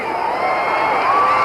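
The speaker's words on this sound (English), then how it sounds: "Crowd got excited about that left thrown by Mathis" A boxing arena crowd at a heavyweight bout between Muhammad Ali and Buster Mathis roars and cheers in a steady, dense swell of voices, with scattered whoops rising above the din.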